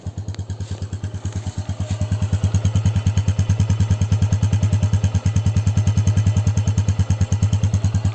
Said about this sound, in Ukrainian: Мотор муркає.